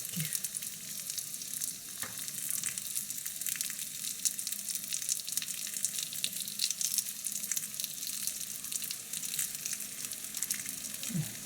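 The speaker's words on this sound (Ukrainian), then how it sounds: "Ми будемо їх жарити." Steady oil sizzling and crackling as potato pies fry in a pan over moderate heat, continuous and close, with no voices.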